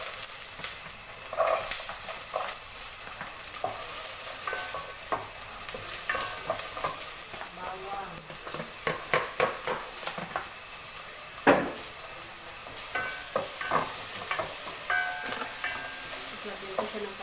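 Ginger and onion sauté in a hot pan, a constant sizzling hiss broken by repeated scraping and clanking stirs of a utensil, one sharp knock standing out, close by and with no speech.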